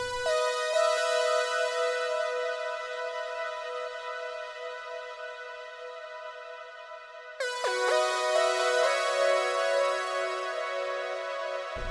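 Sustained synth chords with shimmer reverb and a ping-pong delay in a progressive trance remix, bright and ringing, holding one chord before a new one swells in and decays.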